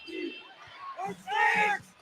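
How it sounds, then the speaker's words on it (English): A college basketball crowd in Hawaii chants for defense during a close game, a loud rhythmic mass of voices that swells in two bursts with a play-by-play announcer talking over it. "Hawaii crowd chanting defense"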